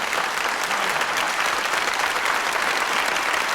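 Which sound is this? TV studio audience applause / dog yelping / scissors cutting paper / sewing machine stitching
TV studio audience applause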